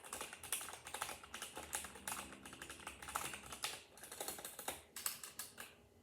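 Rapid, continuous typing on a mechanical keyboard with unlubricated switches and poor stabilizers, with dense, clacky keystrokes and no pauses or talk.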